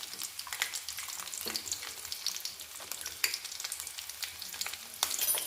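Chopped garlic frying in hot oil and being stirred for a Kerala-style beef pickle, with a steady sizzle and sharp scrapes and clinks of the spoon against the pan, close up and with no talking.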